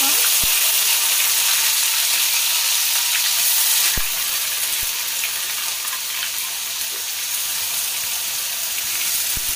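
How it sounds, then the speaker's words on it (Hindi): Ground onion paste with cumin frying in hot oil while cooking Hotel-style chole aloo, a steady bright sizzle with a few faint clinks and stirring taps throughout. "जीरा डालने के बाद हम डालेंगे इसमें प्याज जो हमने पीसा हुआ था।"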